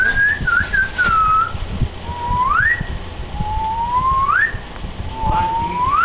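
A person whistles in imitation of a pet bird's song, giving about four sliding, rising whistled phrases with short gaps between them, close and clear over a low background murmur.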